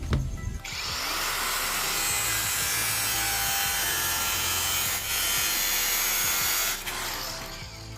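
A manual hand saw cuts through sandal foam with a continuous close rasping, scraping drone that holds steady for several seconds with slight breaks between strokes.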